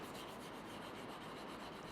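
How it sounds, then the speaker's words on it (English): Sanding of small wooden game pieces fitted with magnets, a steady close rasping rub that runs continuously and evenly with no pauses and no voices. "Lastly, a bit of sanding over the whole deal."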